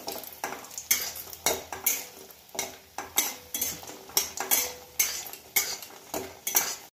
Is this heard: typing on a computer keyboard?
no